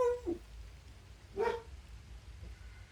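A dog gives a couple of short barks, one right at the start and a louder yelp in the middle, somewhat distant against a low background hum.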